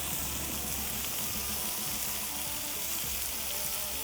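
Sirloin beef blend sizzling steadily on a hot cooktop for a cheeseburger cheesesteak, a dense, even, loud frying hiss with no pauses.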